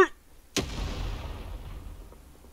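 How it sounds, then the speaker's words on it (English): A grenade goes off in a trench in the Vietnam War video game Rising Storm 2: Vietnam, a single sharp close blast followed by a long booming rumble that slowly fades. "Guy just threw a grenade in the trench right in front of me."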